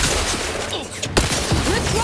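Gunfire during combat in the video game The Outer Worlds 2, a dense clattering volley of shots mixed with other game sounds and voices, loud and continuous with a sharper burst in the middle.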